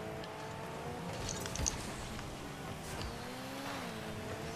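Rocket League cars drive and boost across a game arena, a continuous steady engine whine with shifting pitch, tire noise and a brief impact thud, heard alone at moderate level.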